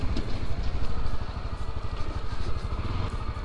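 A Honda Tornado 300 dual-purpose trail motorcycle engine idles with a steady, even rumble and a light mechanical clatter, close and fairly loud, with no talk over it.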